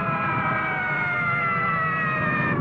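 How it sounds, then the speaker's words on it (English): Emergency sirens wail continuously at a moderate distance, overlapping tones holding steady with slight pitch drift and no voices. "You hear those sirens? They're for you."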